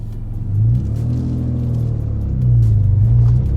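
A Rossion Q1 turbocharged sports car pulls away from close by, its engine rumbling low and rising in two swells as it gets moving.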